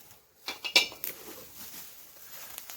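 Lids from a six-piece non-stick cooking pot set are handled during unboxing, giving a few light metallic clinks and taps followed by soft rustling and shuffling.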